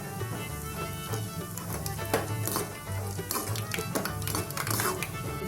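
Half a cup of peanuts roasting in hot oil in a kadai, with steady sizzling and scattered clinks and scrapes of stirring, close and continuous, no talking.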